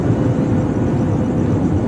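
Steady low rumble of engine and airflow fills the cabin of a large passenger airplane, a constant broadband drone with no breaks and no voices.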